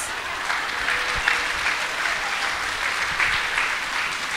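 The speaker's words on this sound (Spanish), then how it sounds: "Un aplauso a Dios" A church congregation's sustained applause to God during a sermon, continuous dense clapping throughout at an even, loud level.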